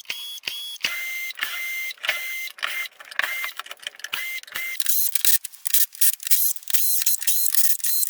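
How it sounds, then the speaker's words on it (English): Rusted screws being backed out of a tropical wood garden tabletop with a power driver, heard as a rapid series of short, sharp whirring bursts with clicks between them, close and loud, with no talk. "Now I can remove all the screws."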